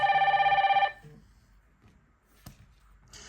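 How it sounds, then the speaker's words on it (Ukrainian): An incoming call rings on a WuW J09 Ultra smartwatch with a close, pulsing electronic ring that lasts under a second and then stops, followed by quiet handling and a brief tone. "Ось є дзвінок, ми зараз набираємо."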